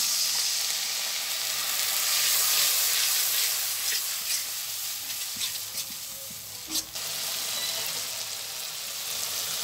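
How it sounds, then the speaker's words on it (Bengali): Onion and garlic paste fry in a pan, giving a continuous loud sizzle with bursts of stirring and scraping and a sharp spatter near the middle. "রসুন বাটা দিয়ে দিয়ে একটু পেঁয়াজটার সাথে ভাজা ভাজা করে নিচ্ছি"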